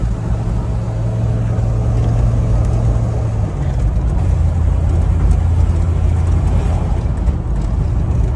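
A car engine running roughly while driving, close and loud, with a steady low drone that shifts pitch about halfway through and continues without pause.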